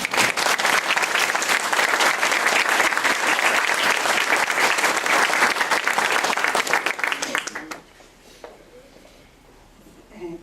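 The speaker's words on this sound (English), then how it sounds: "I would like you all to join me in just giving her a round of applause for being a fabulous American" An audience at an ambassador's swearing-in ceremony breaks into loud, sustained applause that runs for about seven seconds before fading out, leaving a quiet room.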